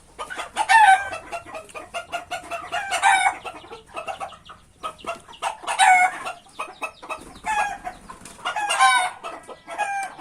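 Chickens cluck and squawk in busy, overlapping bursts, with a rooster-like call mixed in, close by and fairly loud throughout.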